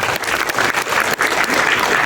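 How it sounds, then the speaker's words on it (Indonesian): Audience applause at a KlikFilm Showcase 2025 press conference, honoring batik: dense, steady clapping from a crowd that stays loud and close for the whole stretch. "Silakan tepuk tangan untuk batik"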